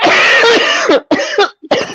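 Harsh, raspy coughs come close and loud in three quick bursts with short gasps between them.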